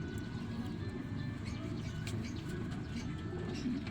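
Pigeons coo softly in a loft, low murmuring calls blending into a dense, steady background with occasional faint chirps.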